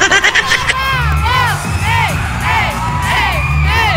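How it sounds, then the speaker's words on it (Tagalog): A crowd of college students at an acquittance party shouts and cheers loudly, with repeated rising and falling whoops and screams over a dense, noisy backdrop of voices. "At ang sigaw pa ng karamihan ay, ang mga tuhod daw!"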